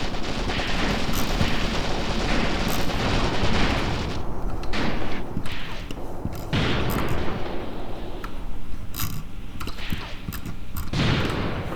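Submachine gun fire in the WWII tactics game Graviteam Tactics Mius Front, dense overlapping bursts of rapid shots mixed with distant booms and battle rumble, loud and continuous throughout.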